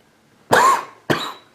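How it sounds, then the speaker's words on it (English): Two sharp, loud coughs, close to the mic, with a short gap between them and no talk. "My cough is pretty bad."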